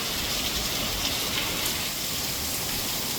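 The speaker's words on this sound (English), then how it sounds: "That is a lot of rain." Heavy rain pours down outdoors as a steady, dense broadband hiss, a constant roar with no letup and no talk over it.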